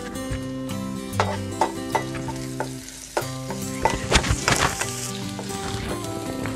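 Crushed garlic and ginger fry in coconut oil, a continuous close sizzle broken by repeated scraping and knocking of a spoon stirring against the pan.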